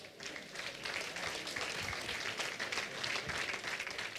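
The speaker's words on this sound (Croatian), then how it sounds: "Pozdravite ih još jednom pljeskom." An audience at a klapa singing festival in Bibinje applauds a group, sustained dense clapping from a crowd that holds steady for several seconds, with faint voices beneath.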